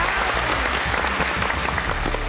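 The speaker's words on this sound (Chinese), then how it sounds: "掌声鼓励一下" A television quiz-show studio audience breaks into dense, loud applause that continues steadily throughout without a break.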